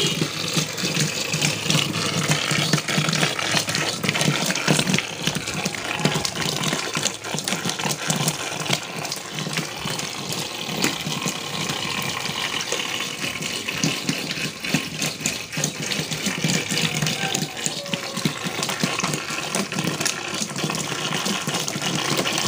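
A mini 12V DC submersible water pump drawing under 30 watts at about two amps, running with no pipe attached, gives a steady, continuous gushing and whirring hum that stays at an even level throughout.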